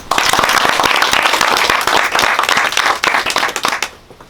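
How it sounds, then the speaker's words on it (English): A seated audience at a public talk on an artist's life in Jerusalem breaks into sustained, dense applause, many hands clapping steadily and loudly before it tapers and stops near the end. "everyone please give a round of applause for Barbara Bear and Laura Schor"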